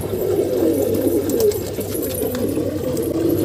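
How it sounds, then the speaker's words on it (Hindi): A pigeon on a rooftop coos in a continuous low murmur, fairly loud and close, with faint higher clicks and rustles scattered above it. "मेरे छत पे एक नया कबूतर बैठा था"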